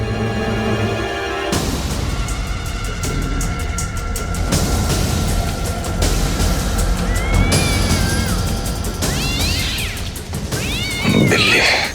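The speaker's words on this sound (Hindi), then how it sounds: "बिल्ली।" A cat meows and caterwauls repeatedly in drawn-out, wavering cries that rise and fall, loud and close, over a steady background hum and music.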